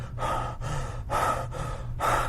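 A voice imitates heavy breathing, with three loud, close, rhythmic breaths, each a hoarse rush of air separated by brief pauses.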